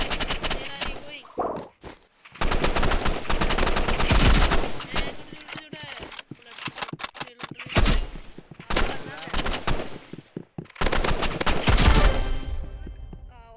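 Rapid bursts of gunfire from the Roblox shooter Rivals, loud and dense automatic fire in repeated volleys with short gaps, a voice talking over parts of it.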